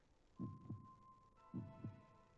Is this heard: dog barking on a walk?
no